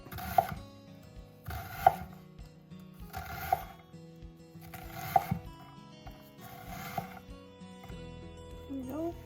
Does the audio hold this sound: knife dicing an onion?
yes